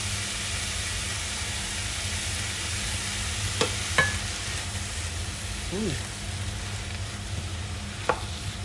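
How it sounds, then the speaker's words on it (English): Onions and green peppers softening in a pot for split pea soup, producing a steady low sizzle with occasional stirring clinks, while a voice talks faintly in the background. "that is a whole lot of onions and green peppers, but it makes it really delicious. So we're gonna soften those up a little"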